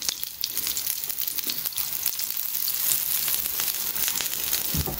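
French toast fries in ghee in a pan, giving a close, steady sizzle with crackling pops that grows slightly louder partway through, no voices.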